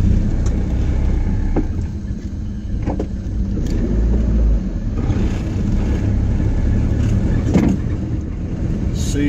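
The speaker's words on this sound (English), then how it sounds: "So we'll just drive around a bit." A car drives slowly around a seaside town in Toronto, New South Wales, Australia, its engine a steady close rumble with road noise and occasional brief bumps throughout.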